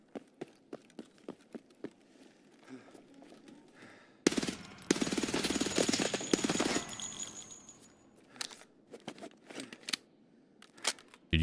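A weapon in Escape From Tarkov empties its magazine in one loud, rapid automatic burst of about two seconds, framed before and after by quieter clicks and footsteps of gear handling.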